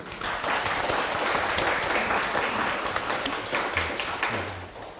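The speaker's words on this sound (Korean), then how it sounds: "수고해주신 네 분께 여러분 큰 박수 부탁드립니다." Audience applause for four panelists at the close of a Web3 blockchain industry open session, a dense wash of many hands clapping steadily for about five seconds, fairly loud and close, fading slightly at the end.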